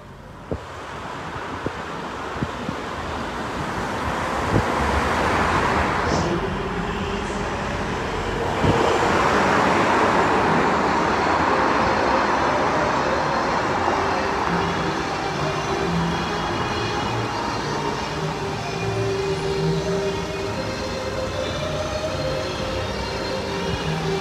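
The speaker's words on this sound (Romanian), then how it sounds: "Pentru aproape 100 de mașini blochează tot traficul din București." Busy street traffic in Bucharest, with close to a hundred cars blocking the road. A continuous wash of engine rumble and wind-like roar runs throughout, with scattered clicks and a couple of brief louder passes.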